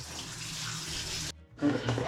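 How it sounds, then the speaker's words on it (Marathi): Water gushes from a vessel into a cooking pan for an oil-free peanut curry with garlic, a steady pour that pauses briefly before a second splashing pour. "डायरेक्ट पाणी टाकायचं."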